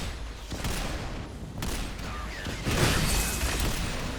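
Chrono Striker gun from the video game Synthetik 2 fires in dense rolling bursts of gunfire, steady and loud throughout, swelling a little toward the end amid other game mechanisms and impacts.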